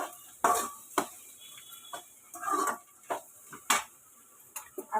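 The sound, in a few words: stirring potato sabzi in a pan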